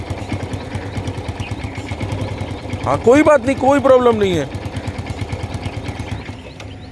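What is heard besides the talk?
150cc motorcycle engine running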